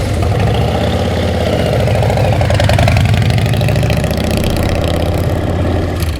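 A 2001 Ultra Fat Pounder motorcycle with a 113 S&S engine and five-speed gearbox idles loud and close, a deep, lumpy, rhythmic rumble that holds steady with slight revving swells.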